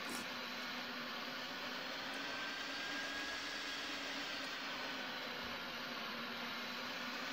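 Airplane in a flight video game turning and taking off: a steady, loud jet-engine roar with broadband hiss, holding constant throughout with no voices.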